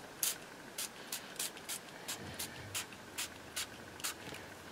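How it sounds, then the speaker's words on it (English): A series of short, sharp spray bursts of Antique Bronze ink spray stain from a pump bottle, about a dozen quick spritzes in an uneven rhythm, close and fairly quiet. "I'm just going to spray a bit of this."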